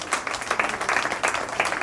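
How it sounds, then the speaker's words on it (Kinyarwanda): An audience at a community event breaks into clapping, a brief, fairly steady patter of many hands heard at moderate level. "nabasaba yuko twabakomera nabo nyene amashyi"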